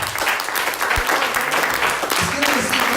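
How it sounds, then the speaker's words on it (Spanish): A church congregation claps enthusiastically, a steady wash of applause at close range with voices mixed in. "Vamos a dar un aplauso con ganas."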